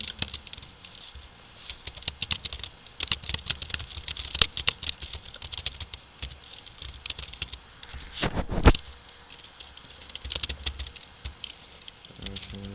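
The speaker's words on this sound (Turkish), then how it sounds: "Şimdi, unutmuşum bunu hemencik yazayım." Fingers patter across a computer keyboard in irregular bursts of close, crisp key clicks, with a louder thump midway and brief pauses between runs of typing.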